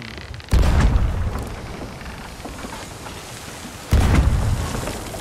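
Two heavy booming blasts of ship cannon fire in a Sea of Thieves naval fight, each a loud low thud that rolls off slowly, the second arriving about three seconds after the first.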